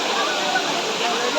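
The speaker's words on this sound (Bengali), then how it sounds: "এখানে সবাই স্নান করছে আর এখানে পুরো ঝর্ণাটা" Motijharna waterfall with bathers in the pool below, a steady, close broadband rush of falling water that stays loud and even throughout, with no pauses.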